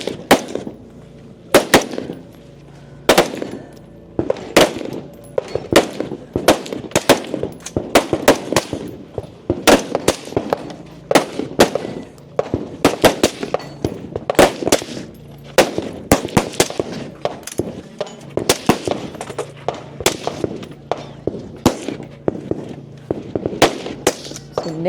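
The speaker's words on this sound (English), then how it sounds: "So now they will shoot within those 45-degree ports." Gunfire at a practical shooting match with shooters firing through 45-degree ports, a long run of sharp, loud shots in quick bursts and pairs with short pauses between, heard from nearby without talk.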